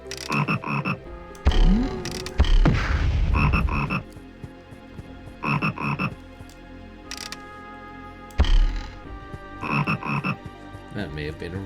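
Frogs croak in the Forbidden Forest 3 game in repeated loud bursts with pauses between them, over a steady game tone, with no talk.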